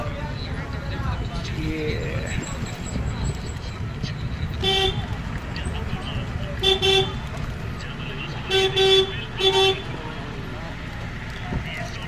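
Jeep on a safari drive, a steady engine and road rumble with several short horn toots spaced through the latter half, and people talking over it.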